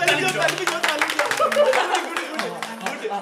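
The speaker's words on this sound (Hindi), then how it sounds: "Very good. ताली बजाओ।" A group of people clapping in a drama scene, quick overlapping claps under chatter and light laughter, fairly close.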